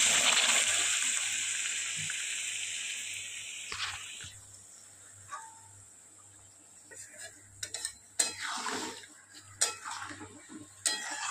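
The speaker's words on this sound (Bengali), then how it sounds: "এবার দিয়ে দেবো পরিমাণ মতো জল" Water is poured into a pan of spiced oil and masala for a potol chingri curry with potatoes, giving an initial hissing rush, then softer sloshing and clinks of a spoon and pan.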